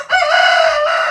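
A rooster crows loudly and close by in an African village, one drawn-out call that holds strong to the end.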